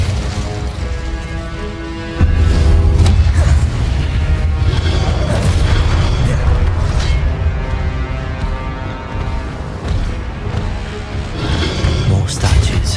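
Fiery blast of the Incendio spell in Hogwarts Legacy, a loud booming whoosh that swells after two seconds and rumbles on continuously beneath game music and clatter.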